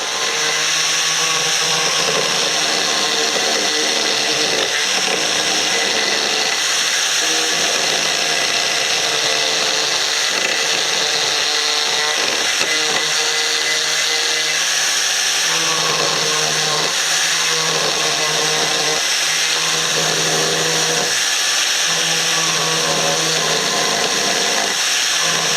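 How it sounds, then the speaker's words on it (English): A carbide ring ball gouge carving wood on a lathe, a continuous high whirring and scraping grind that stays loud and steady throughout. "The ball gouge has a carbide ring around it that spins around and carves in a nice contoured shapes."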